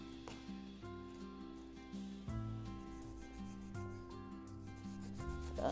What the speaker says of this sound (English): just constantly keep shaving around the pineapple until you see no more green, no more outer shell.